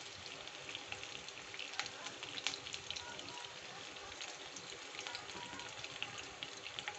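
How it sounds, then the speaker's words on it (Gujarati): Green chilies sauté in hot oil with mustard and cumin seeds, giving a soft, continuous crackling sizzle like light rain, with faint pops throughout. "તો મરચાંને થોડીક આપણે સાતળવા દઈશું"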